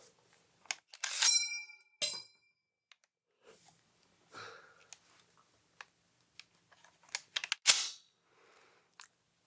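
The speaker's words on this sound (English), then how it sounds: "An empty Garand magazine is going to make that famous ping sound" Scattered sharp metallic clicks and clacks from an M1 Garand, with the bright ringing ping of the empty magazine standing out near the end, fairly loud against quiet gaps.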